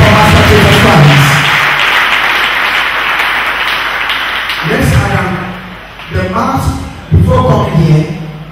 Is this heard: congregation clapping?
yes